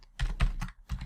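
Fingers type on a computer keyboard during C programming work, four quick clustered bursts of clacking keys close to the mic, with no talking.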